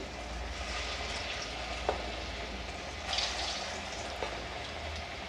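Masoor dal pakoras frying in hot oil, a steady dense sizzle throughout with a few faint clicks of a spoon, close and continuous with no voices.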